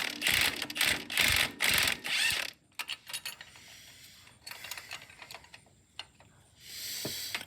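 A wrench or impact tool working the tie rod nut on a 2008 Polaris Trail Boss 330 ATV: loud bursts of ratcheting and mechanical rattling at first, then scattered clicks and metallic clinks, close by with no talk.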